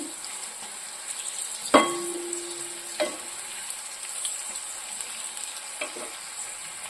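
Sliced bitter gourd and onion fry with a light salt seasoning in a pan, a steady soft sizzle with a few sharp knocks and scrapes as the spoon stirs, close and alone.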